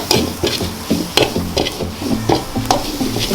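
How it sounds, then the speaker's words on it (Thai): Beef stir-fried in a pan with dipli chili paste, a loud, close sizzle with a steady rhythm of spatula strokes scraping and tapping the pan about three times a second. "ผัดให้เนื้อตึงๆเลยครับ"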